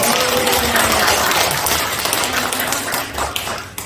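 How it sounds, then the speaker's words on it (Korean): A church congregation claps together during a sermon on Luke 19, a dense, steady wash of many hands that holds loudly for about four seconds and thins slightly toward the end. "박수 한번 쳐봐 진짜."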